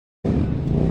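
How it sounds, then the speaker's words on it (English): A car engine starts abruptly after a brief silence and keeps up a loud, steady rumble, close by and alone with no voices. "car,"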